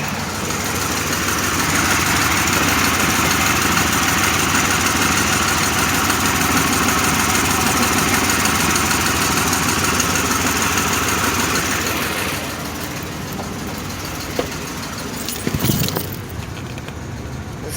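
A rusty 1997 Pontiac Grand Prix GTP two-door coupe idles with its exhaust running, low on coolant and reeking of raw fuel: a loud, steady rumbling drone that eases down to a quieter idle partway through, with a few brief knocks near the end.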